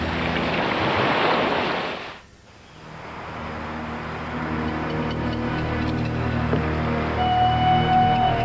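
Ocean waves and surf crash in a broad noisy wash that drops away briefly, then returns as a steadier rolling roar with wind buffeting the microphone, loud and near, with no speech.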